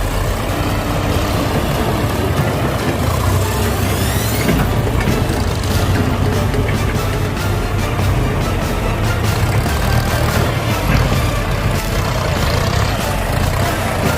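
An excavator's four-cylinder 4,485 cc turbo diesel engine runs loud and close, a constant heavy low-pitched drone with rattling mechanical texture.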